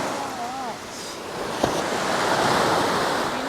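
Sea waves washing onto a beach during a camping trip, a continuous rushing surf with wind noise buffeting the microphone, loud and close, with faint voices early on.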